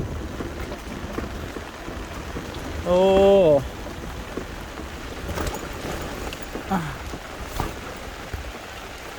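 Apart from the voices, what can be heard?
heavy rain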